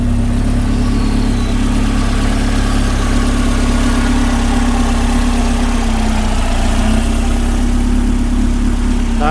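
Steady, loud idle of a 1997 Renault Sport Spider engine, a constant low rumble with exhaust burble holding even for several seconds, no voices.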